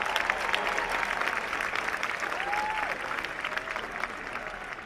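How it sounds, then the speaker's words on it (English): An auditorium audience gives sustained applause at the CSUN 2024 honors convocation, a thick, continuous wash of clapping that holds at an even, fairly loud level from start to finish. "big round of applause."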